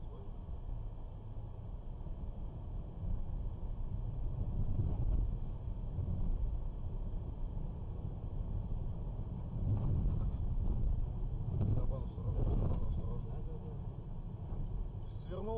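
A car rolls along a narrow street in pursuit of someone, with a steady engine and road rumble throughout and people talking inside the vehicle over it.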